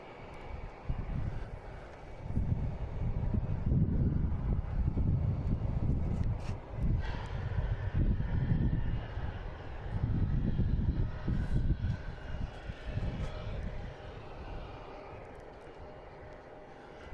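An Etihad airliner makes its turn on approach to land at Boston Logan International Airport, a broad, low jet roar that surges and fades in waves with wind buffeting the microphone.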